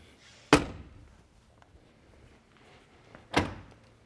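A BMW E46 door, after a loose exterior handle is tightened, pops open with two sharp, close mechanical clunks about three seconds apart, heard alone in a quiet space.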